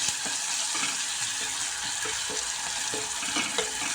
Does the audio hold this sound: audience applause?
no